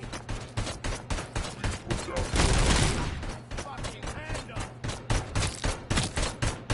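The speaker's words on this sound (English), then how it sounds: "You're just shooting corpses." Rapid bursts of gunfire pour into corpses in the video game RoboCop: Rogue City, loud repeated shots with a denser volley midway and a steady low hum beneath.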